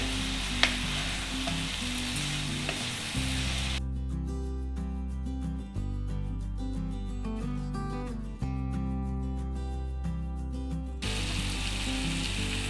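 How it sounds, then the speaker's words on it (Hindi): Okra frying in a pan for bhindi gosht, crackling and sizzling steadily and fairly loudly, with background music over part of the sound. "अब हम भिंडियाँ ऐड करेंगे, भिंडी की सब्जी।"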